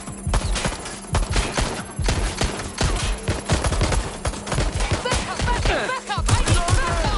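Sustained bursts of automatic and rapid gunfire from the Watch Dogs Legion video game, loud and dense throughout, with a shouting voice briefly mixed in among the shots.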